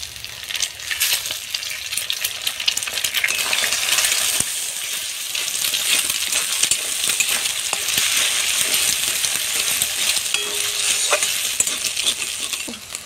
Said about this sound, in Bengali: ডিমটা তেলে ভেঙে দিয়েছি।